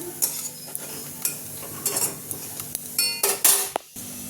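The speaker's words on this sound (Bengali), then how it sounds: "এই যে পরোটা ভাজছি এখন" Paratha frying in a pan amid kitchen work, with clattering of a metal pan and utensil scrapes in sharp irregular bursts over a soft background sizzle, close and fairly loud.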